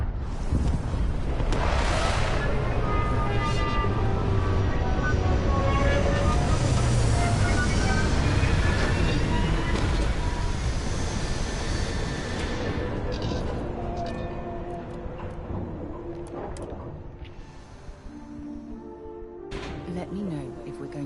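A spaceship in the video game Starfield comes in to land with a loud, sustained rumbling roar and a layered whine of engine tones that slowly subsides, broken by brief voice chatter.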